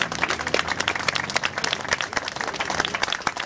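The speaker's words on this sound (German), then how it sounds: "Ich denke auch, das ist ein riesen Applaus." Dense, crackling applause from an outdoor vigil crowd at a donation drive for medicines, steady hand claps filling about three and a half seconds with no speech over it.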